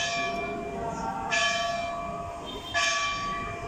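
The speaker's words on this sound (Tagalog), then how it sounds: "Naririnig natin yung kampana." A church bell tolls for mass near Dr. Jose Rizal's house in Calamba, two clear strikes ringing out over a steady background hum, with a long sustained ring between them.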